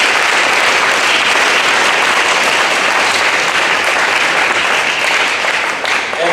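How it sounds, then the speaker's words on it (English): Loud, sustained applause fills the hall at a high school football banquet, a thick, even roar of many hands clapping that carries for several seconds before thinning slightly at the end. "So let's give these guys all a big round of applause."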